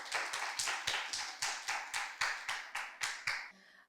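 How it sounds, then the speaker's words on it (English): Steady rhythmic clapping at a school debate, about a dozen sharp claps in even succession, fairly close and loud, ending abruptly with a faint murmur afterward. "Let's give him a round of applause."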